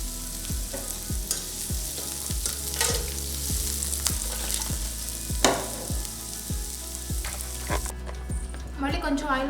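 Ivy gourd pieces fry and sizzle in oil in a pan, with a constant loud sizzle, a low rhythmic thumping underneath and a voice speaking briefly at the end.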